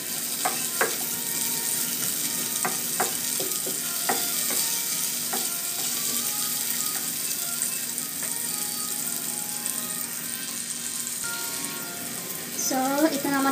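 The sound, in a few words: sautéing onions in a pan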